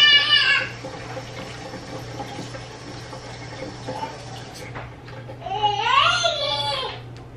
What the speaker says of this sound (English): And then we're going to do 2 cups of hot water